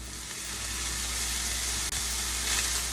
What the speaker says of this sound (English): we've got quite a sizzle going on here now that I've drained the pan